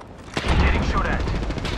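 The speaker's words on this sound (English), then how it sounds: "Getting shot at." A short burst of video game gunfire: one sharp crack followed by a rattling, dense spray of shots, fairly close.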